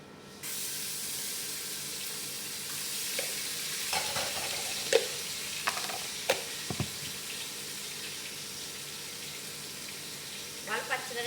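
Ginger paste sizzles steadily in a pan for chicken biryani, a constant hiss broken by a few sharp clicks and scrapes as it is stirred.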